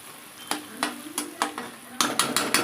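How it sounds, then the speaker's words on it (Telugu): Country chicken (natukodi) curry frying dry in a pan, with a steady sizzle under a series of sharp spatula scrapes and stirs, about eight strokes coming at a quickening pace and louder toward the end, close and without voices. "బాగా మనకి ఎలా అయిపోవాలంటే పొడి పొడి అయిపోవాలి కర్రీ అలా ఫ్రై చేసుకోవాలన్నమాట"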